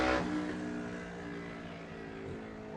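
Road race motorcycles at the Cookstown 100 crossing the finish line, a loud engine roar sweeping past up close and fading into a sustained droning whine.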